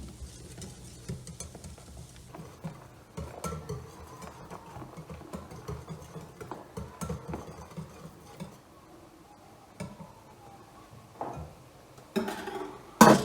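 Marinade being stirred with mineral water in a mixing bowl for a kebab, a soft, close scraping and sloshing that comes and goes, with clinks near the end.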